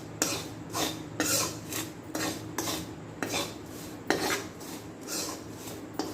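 Spoon stirring chilli pickle masala in a bowl, with about ten rhythmic scraping and clinking strokes against the sides, close and steady, and no other sounds.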